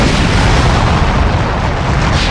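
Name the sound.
flame fruit rocket flight move explosion in video game Roblox Blox Fruits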